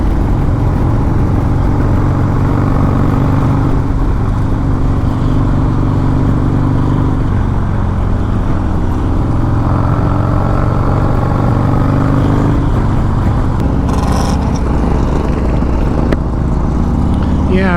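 A motorcycle engine drones steadily during a ride, loud and close, with constant wind rush and a voice talking over it.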